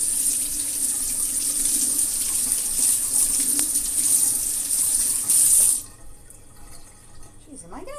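Tap water runs steadily into a kitchen sink while leeks and turnip are washed, a loud continuous hiss that stops abruptly near the end, leaving quiet room tone and a brief voice.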